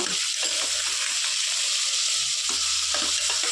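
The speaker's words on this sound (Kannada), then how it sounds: "ಇವಾಗ ಇದೆಲ್ಲ ನೀಟಾಗಿ ಸ್ವಲ್ಪ ಫ್ರೈ ಆಗಿದೆ" Peanuts and green chillies fry in hot oil for lemon rice, a loud, close, constant sizzle with low scraping and knocks from a spoon moving them around the pan.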